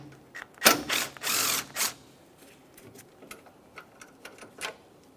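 A ratchet works a 10mm bolt on the front grille of a 2014-2018 Toyota Corolla, with a couple of loud whirring clicking bursts close up followed by lighter scattered clicks and taps.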